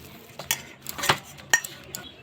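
Cabbage momo filling being mixed in a bowl, giving a few sharp clinks and light scrapes against the bowl spaced over a couple of seconds, quiet and close with no voices.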